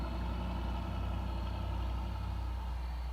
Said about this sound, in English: Dude just driving around. Loud truck, baby.